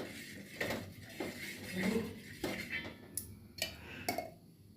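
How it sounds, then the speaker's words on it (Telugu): Light metallic scraping and clinking of a utensil spreading oil across a hot pan for corn dosa, a series of short close taps and scrapes with no talk. "ఇది వేడైన తర్వాత లైట్గా ఆయిల్ వేయాలి."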